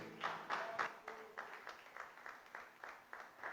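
A church congregation applauds during a Portuguese-language worship service, giving steady, faint, rhythmic clapping from a distance with soft voices underneath.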